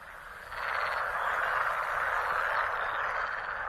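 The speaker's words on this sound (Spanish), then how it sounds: "El croar de las ranas macho resuena por toda la zona." Male frogs croaking en masse across a breeding area near an alder forest, a dense continuous chorus that swells in after a quiet start and stays loud throughout.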